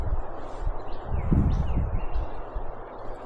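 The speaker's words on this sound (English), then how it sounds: "You hear that wind in the pine trees?" Wind blowing through pine trees on an enduro ride outdoors, a rushing, rustling wash that swells in the middle, with faint bird chirps above it.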